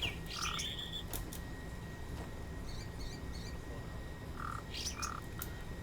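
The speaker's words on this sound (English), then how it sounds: "Bird noises in these garden type things." Bird noises in a garden setting of the video game Sapiens, with a few short chirps and calls at moderate distance against a steady ambient background, spaced irregularly.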